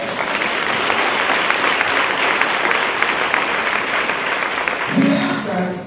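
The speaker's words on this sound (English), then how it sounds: "Give him a big round of applause." Audience applause for a facilitator at a talk about stay-at-home dads, steady dense clapping filling the room for several seconds, then a voice begins speaking near the end as the clapping fades.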